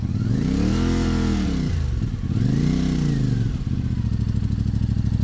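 A motorcycle engine on a mountain trail ride revs hard in two rising and falling surges, loud and close, then settles into a steady rumbling idle.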